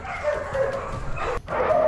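Explosive detection sniffer dog at a K9 training center barking and yipping in quick bursts, close and fairly loud, with a brief whimpering tone.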